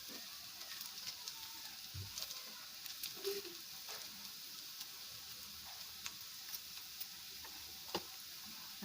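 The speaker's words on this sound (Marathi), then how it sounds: "त्याला तेलात परतून घेऊया। कांदे लाल होईपर्यंत आम्ही त्याला भाजून घेऊया।" Onions frying in oil in a pan for a Malvani-style bhendi bhaji, a faint, steady hiss with scattered soft pops and crackles, quiet and distant-sounding with no talk.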